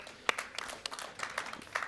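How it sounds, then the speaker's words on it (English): Light scattered applause from a seated audience on a trade-show main stage, quiet and brief with individual claps audible throughout. "A round of applause for one of the smartest minds in the business"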